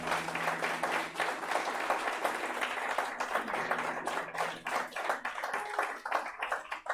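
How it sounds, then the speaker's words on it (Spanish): A church congregation claps during a Sunday morning service, with dense, even applause sustained for several seconds at moderate distance and no voices over it. "Denle un aplauso a Cristo si lo cree"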